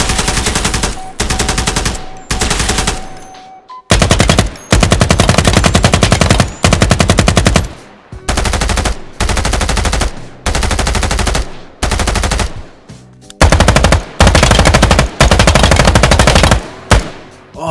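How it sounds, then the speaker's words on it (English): AK and M4 rifle fire in the tactical shooter Ground Branch, loud sustained automatic bursts of one to two seconds separated by short gaps, dense and punchy with no voices. "Take this AK and M4, for instance."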